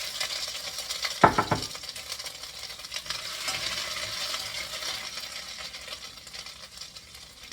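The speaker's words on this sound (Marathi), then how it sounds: "ऑइल गरम झालेलं आहे. आता आपण फोडणी घालायची, हिंग आणि फोडणी." Asafoetida and crushed ginger tempering in hot oil for a bottle gourd dish, giving a steady, close sizzling hiss that opens with a sharp metallic clink and then settles into continuous frying.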